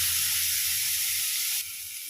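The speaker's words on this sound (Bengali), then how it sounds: "চিংড়ি মাছটা ভাজা হয়ে গিয়েছে," A close, steady sizzle of prawns frying in oil in a pan carries on unbroken and drops a little in loudness near the end, with no voices.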